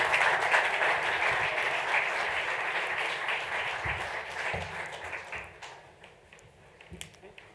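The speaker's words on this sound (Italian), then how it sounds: "Un bel applauso per i nostri ospiti." An audience at an Italian round-table panel applauds the invited guests, a dense sustained clapping that slowly thins and fades out into a few scattered claps.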